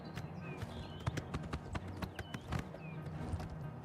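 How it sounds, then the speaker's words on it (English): A horse gallops in Oblivion Remastered, its hooves striking in quick, rhythmic clip-clops at close range, with faint whooshing game effects underneath. "This horse is going the whole way."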